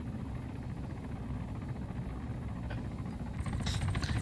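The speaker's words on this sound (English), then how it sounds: "We're all in the same helicopter." A military helicopter flies in Arma III, its rotor throbbing in a continuous, fairly loud drone that holds steady, with faint chatter near the end.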